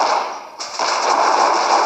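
Heavy booming impacts and crashing bursts from giants attacking in Clash of Clans, loud and continuous, with a sharp hit near the middle and no talking.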